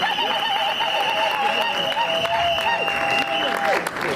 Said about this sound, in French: Si on peut l'applaudir une dernière fois.